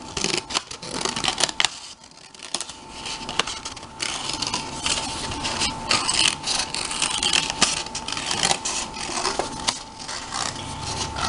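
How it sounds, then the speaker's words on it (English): Paper or craft material being cut around a shape with scissors for a preschool magnifying-glass craft, giving a steady run of close, fairly loud snipping and rubbing scrapes with no talk. "And then you have a hole, and then you just cut around it."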